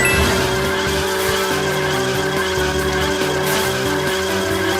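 Mario Kart racing game audio with several karts' engines droning steadily and loudly throughout, tire skids and squeals breaking in, layered over continuous game music with no talking.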